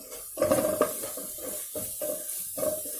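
A spoon stirring fish curry in a pot after homemade garam masala powder and salt go in, with a few rhythmic scraping strokes and a faint sizzle.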